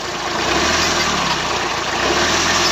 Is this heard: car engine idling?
yes